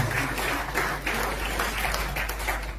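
Church congregation applauding during a sermon, a loud, close burst of many hands clapping in uneven swells, with a steady low hum underneath.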